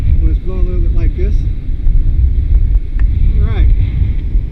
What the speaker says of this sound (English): It's windy enough to make it uncomfortable for me to hold.